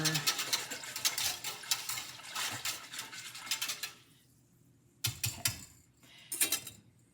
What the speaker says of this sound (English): the buttermilk had a few thick clumps in it, so I'm gonna go ahead and just whisk it to make sure